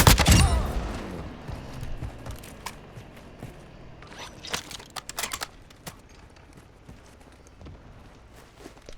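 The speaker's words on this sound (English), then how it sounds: "I hear firing to the left." Scattered gunfire in a firefight: a loud burst at the start, then sharp, irregular shots cracking at mid distance amid rustling movement, with no talking.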